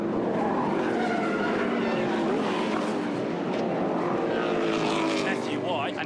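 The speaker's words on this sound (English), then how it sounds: "He's on the brakes, bang into the wall." Race car at Bathurst braking hard and crashing into the wall, with loud continuous engine and tyre noise and skidding squeals throughout, under excited commentary.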